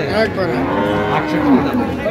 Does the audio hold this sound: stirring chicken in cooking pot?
no